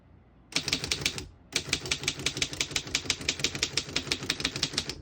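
Keys clatter on a 1925 Underwood No.5 antique desktop typewriter, set to single spacing: a brief burst, a short pause, then a fast, even run of sharp mechanical strikes, close and crisp with no talking.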